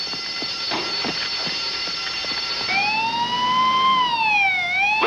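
An ambulance siren wails loud and near, its rising and falling tone sweeping in a clear continuous cycle over a steady background hum.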